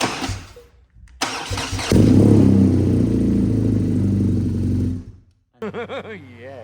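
A BMW R NineT Racer motorcycle engine cranks with a short clatter, catches and settles into a loud, steady idle, then cuts off, followed by a few brief spoken words.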